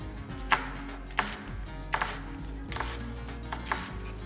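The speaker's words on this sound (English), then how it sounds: "I'm going to continue cutting the onion." A kitchen knife chopping onion on a board for a Spanish omelette, several crisp distinct chops at uneven intervals over a low, steady room hum.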